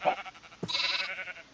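Sheep bleating in Minecraft: a short nasal bleat followed by a longer, wavering bleat, close and clear with no talk.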